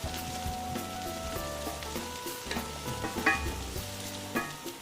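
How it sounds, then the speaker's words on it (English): Vegetables sweating in hot oil in a pan, a steady soft sizzle with light stirring clicks and quiet background tones, no talking. "So we're gonna let these sweat for just a minute or two."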